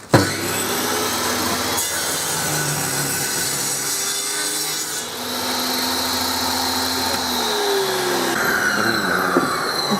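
A circular saw with a Crown (STM Siamtimber) blade whines steadily as it cuts through a three-inch timber board, a continuous high grinding buzz with slight shifts in pitch.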